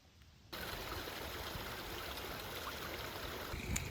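Small stream on the Superior Hiking Trail, a steady close rushing trickle of water that starts abruptly and continues evenly, with no voices.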